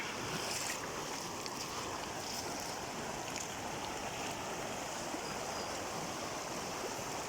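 Strong floodwater current in Nueva Ecija after Typhoon Ulysses roars in a dense, continuous rush, loud and steady with a faint windy hiss on top.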